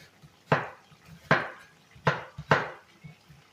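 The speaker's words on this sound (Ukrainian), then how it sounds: "а тепер я буду кришити цибульку" Four firm knife chops through onions land on a board at uneven intervals, each a crisp, close thud with a short ring-out, and quiet pauses between them.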